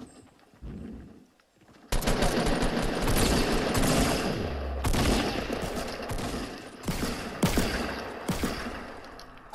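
Sustained automatic gunfire from a Fortnite match, loud and dense bursts rattling continuously after a quiet opening with a few faint sounds, with sharp cracks punctuating the stream.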